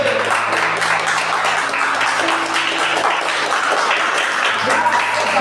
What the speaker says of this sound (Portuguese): Essas palmas é para o nosso Senhor.